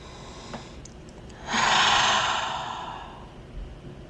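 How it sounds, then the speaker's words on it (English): A person breathes in deeply with hands cupped over the face: a single soft, airy, sigh-like breath swelling for about two seconds and fading, preceded by a few faint small sounds, close and quiet. "I'm gonna put my hands over my face and I breathe."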